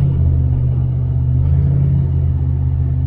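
A 1978 Chevrolet El Camino SS with a 305 V8, four-barrel carburetor and headers pulls under part throttle, giving a loud, steady, deep engine rumble that holds for the whole stretch with no talk.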